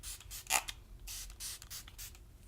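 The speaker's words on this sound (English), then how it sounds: "The first thing again is some moisturizing spray." Several quick hissing sprays of a moisturizing face spray, one sharper burst near the start, then softer puffs in a quiet room with faint handling noises.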